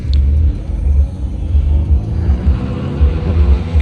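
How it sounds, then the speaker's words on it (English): A Ford Mustang on a dynamometer roars loud and close, its engine rumbling deep and surging through a steady run of revs with no voices. "Mustang dynamometer test"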